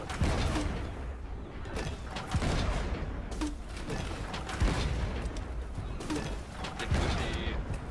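Heavy booming cannon shots fire repeatedly, about every second or two, over a dense, continuous background of battle noise and gunfire in the video game Blazing Sails.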